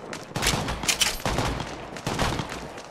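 Gunfire in the mobile battle royale game Apex Legends Mobile: rapid bursts of automatic shots in quick succession, loud and close, with no voices over them.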